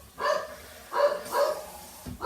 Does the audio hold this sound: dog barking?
yes